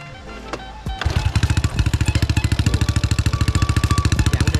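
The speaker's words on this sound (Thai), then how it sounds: "เดี๋ยวสุดท้ายแล้วเดี๋ยวให้พี่ปาล์มสตาร์ทให้ฟังเสียงหน่อยครับผม เรามาฟังเสียงกันว่าลูกเท่าไหร" A Honda Wave 110i motorcycle engine cranks and starts, then runs with rapid, loud, regular pulsing revs close by and no talking.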